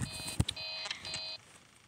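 An alarm in the video game Five Nights at Freddy's 3 gives a few repeated electronic beeps in a steady on-off pattern, fairly loud and clear, mixed with some thumps.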